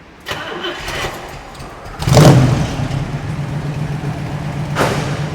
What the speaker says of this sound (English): Let him listen to the engine for a few.